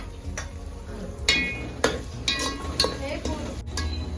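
Tomatoes go into a pan of oil and browned onions with a few sharp clatters and scrapes of a utensil against the pan over a low sizzle, close and moderately loud.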